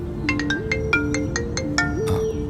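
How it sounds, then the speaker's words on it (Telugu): A phone ringtone plays loud and close for an incoming call, a quick melodic pattern of repeated bright tones over a steady stepped drone. "వదిన ఫోన్ చేస్తుంది."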